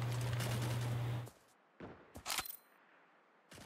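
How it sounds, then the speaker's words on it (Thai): A few sharp gunshots ring out in the mobile battle royale game Cyber Hunter, with a brief burst of fire after a sustained engine-like hum cuts off. "ได้ยินเสียงปืนจากด้านหลัง"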